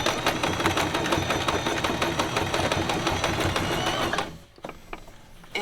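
A sewing machine stitches rapidly across a dish towel, a dense, loud, rhythmic clatter up close that stops abruptly near the end.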